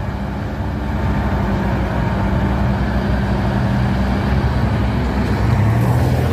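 Heavy Hino trucks climb a hill in a convoy on a hot day, a steady low engine drone and road rumble running unbroken and loud throughout, with no voices.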